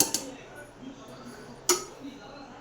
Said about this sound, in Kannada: ಮುಚ್ಚಳನ ಮುಚ್ಚಿ ಬೇಯಿಸ್ಕೊಳ್ಳೋಣ.